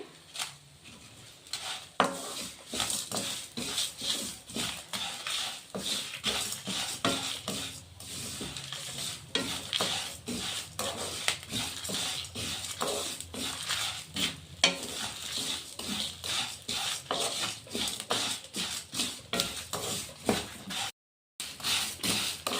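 Byadgi chillies and whole spices such as coriander dry-roasting in a pan, with steady close scraping, stirring and light rattling of the spices against the metal pan throughout, and no talking.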